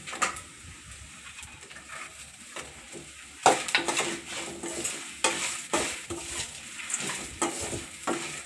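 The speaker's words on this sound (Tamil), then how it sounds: "இப்போ வரமிளகா பொறிஞ்சிச்சு இப்போ கருவேப்பிலை போட போகிறோம்" Loud sizzling and crackling of curry leaves dropped into hot oil after dried red chillies, bursting in suddenly and spitting continuously, with occasional stirring clatter close by.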